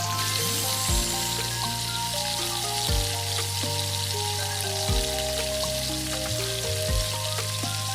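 Chopped onions with a pinch of salt frying in hot mustard oil in a kadai, a steady close sizzle with soft crackle throughout, with a low tonal hum from the stove underneath and a few brief shifts in pitch.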